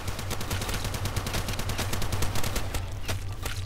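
AN-94 rifle gunfire in a Minecraft zombies game, heard as rapid continuous shots in a dense, rattling stream throughout.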